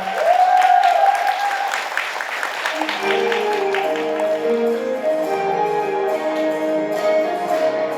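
Wedding guests clap in a steady, dense burst as the bride and groom's song performance begins, with a sustained tone and then music rising and blending under the applause.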